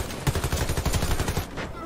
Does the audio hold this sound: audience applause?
no